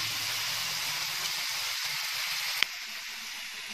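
Onions sizzle steadily in a pan for a thick Sindhi gravy with besan gatte, a soft continuous hiss with one brief sharp tick near the end.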